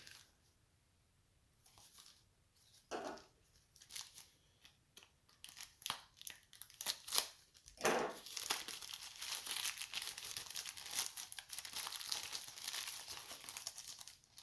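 A plastic bag inside product packaging for an H4 LED motorcycle headlight bulb is handled and opened, giving sparse crinkles at first, then dense, close, continuous crackling and rustling.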